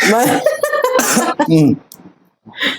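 Dry coughing from a person with a mild flu, a few harsh bursts close to the microphone mixed with voiced sounds, then a short pause and one fainter burst.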